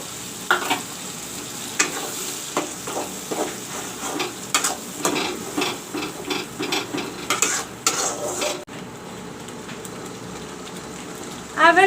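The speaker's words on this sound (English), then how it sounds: "Now I will put in this masala." Masala for a rohu fish curry frying in a pan, with a steady crackling sizzle broken by repeated scraping and stirring strokes and a few clanks near the end, close and fairly loud.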